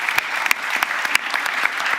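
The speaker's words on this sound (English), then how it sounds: "round of applause for that" Live audience at a Codegarden 2023 conference stream claps steadily, a dense, close patter of hands with sharp individual claps popping out, loud throughout.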